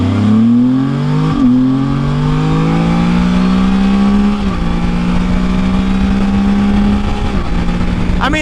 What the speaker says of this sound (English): I'm gonna try to do a little bit of a burnout here.